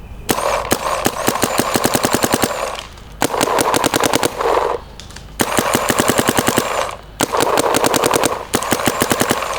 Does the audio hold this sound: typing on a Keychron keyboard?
no